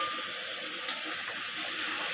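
Hot oil sizzles in a pan as egg curry ingredients are poured in, a steady, fairly faint hiss with one brief crackle near the middle.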